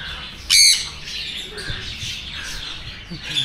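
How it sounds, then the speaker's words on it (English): Caged birds at Garuda Park in Pondicherry give a sharp, loud squawk followed by scattered chirps and tweets at close range, with no talk. "I like the birds when they are free."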